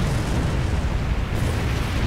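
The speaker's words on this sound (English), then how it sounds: "Explosions." Explosions in the space combat video game Star Trek Online, a loud, dense, continuous roar of blasts and rumbling that fills the whole stretch, with no talking.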